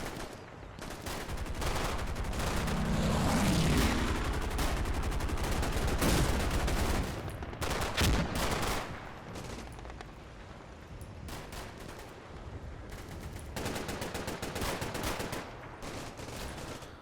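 A creeping artillery barrage in a WWII video game rolls on continuously, with dense overlapping explosions and crackling gunfire, loud and near for most of the stretch and easing slightly toward the end.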